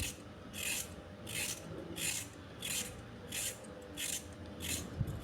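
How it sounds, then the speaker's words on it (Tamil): Rhythmic rasping strokes of a peeler scraping skin off a vegetable, about seven evenly spaced passes, close and clear with no talking. "பீலர் வச்சு அந்த தோலெல்லாம் சீவி எடுத்துக்கலாம்."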